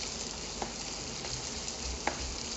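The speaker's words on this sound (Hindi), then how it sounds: "थोड़ी देर इसे भून लेंगे" Ginger, garlic paste and green chillies sizzle in hot ghee, a steady crackling fry with faint occasional stirring taps, heard close and without talk.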